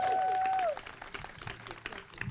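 Audience applause rings out at a historic marker unveiling ceremony for the Waughtown Freedman's School, a steady spread of clapping that follows a sustained tone and continues at moderate level throughout.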